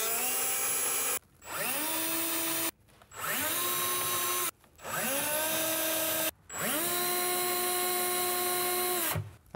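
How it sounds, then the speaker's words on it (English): A power drill bores pilot holes for screws into a pull-out larder base in four close, loud bursts. Each burst whines up to speed and then winds down, with short pauses between them. "put your pilot holes in place for your screws on all of the red spots"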